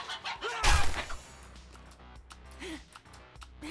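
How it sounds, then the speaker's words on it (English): A bird attacks the player in a survival video game during a horde night, giving a couple of sharp squawking, clucking cries over a low background hum. "Get off me, bird."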